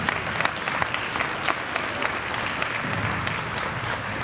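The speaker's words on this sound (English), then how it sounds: "please join me with a round of applause for all of our inductees tonight" Steady, moderately distant applause from the audience at a university athletic hall of fame induction ceremony, a continuous patter of many hands clapping.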